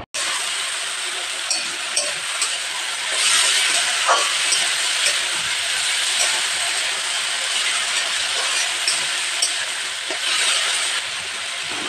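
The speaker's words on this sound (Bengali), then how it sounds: "তো আমি সর্ষের তেল দিয়ে ভাজা করছি।" Sliced bitter gourd and potato sizzle in hot mustard oil with a loud, steady hiss that swells and eases slightly, broken by a few faint clinks of stirring.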